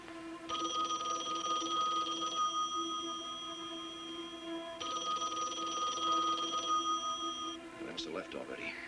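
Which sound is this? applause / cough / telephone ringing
telephone ringing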